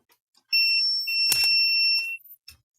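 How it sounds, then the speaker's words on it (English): A piece of electronic equipment on a repair bench for an MSI Cyborg 15 A13VF laptop gives off a sustained high-pitched alarm tone of about two seconds, close and fairly loud, with faint clicks around it. "Ignore the machine that goes beep."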